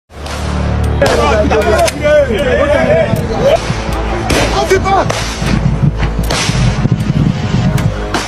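Rapid bursts of gunfire crack again and again amid a loud, chaotic din with shouting voices and general commotion.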